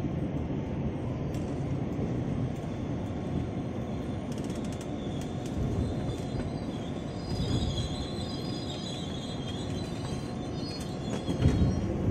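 A commuter train rumbles steadily close by as it arrives at Karet station in Jakarta, wheels rolling on the rails, with faint high metallic squeals as it moves along.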